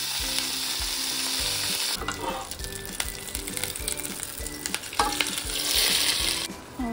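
Chicken fry with curry leaves sizzles in hot oil, a busy crackling hiss with intermittent stirring clatter of a utensil against the pan, fairly close and continuous.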